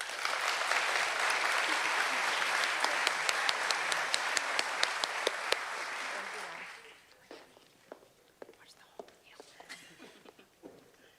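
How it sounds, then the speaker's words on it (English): A round of applause at a physician assistant dedication ceremony, sustained and fairly distant for about six seconds, then tapering into scattered single claps and quiet murmuring. "let's please give them a round of applause"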